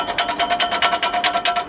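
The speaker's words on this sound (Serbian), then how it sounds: "I kad kosite to zvoni non stop." Loose part rattling on an FPM rotary mower behind an IMT 539 tractor while cutting alfalfa, a loud fast metallic ringing clatter repeating in even pulses, close and steady with no talk.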